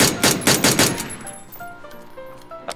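Rapid automatic gunfire from the battle royale game PUBG, a loud burst of about six closely spaced shots with ringing echoes, then a short tail of fainter pings and one last distant shot.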